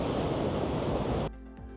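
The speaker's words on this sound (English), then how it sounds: "A lot of action with waves crashing either side of me" Ocean waves crash on the shore on a cloudy day, a loud continuous roar of surf that cuts off abruptly, leaving a quieter background.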